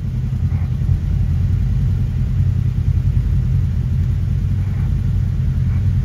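A Kawasaki KRX 1000 side-by-side crawls over steep rocks, its engine a steady low rumble and drone throughout, loud and close with no break.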